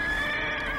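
A horse in the video game Neverwinter gives a short, clear whinny, a wavering high neigh lasting under a second, close and alone.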